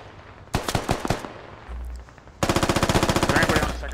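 Gunfire in the video game SquadOps, with a short burst of several sharp shots followed by a longer, rapid automatic volley, loud and close.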